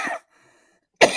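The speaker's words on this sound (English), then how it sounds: "Is that why I'm coughing?" A person smoking a cigarette coughs in two short, harsh bursts separated by a second of silence, close to the microphone.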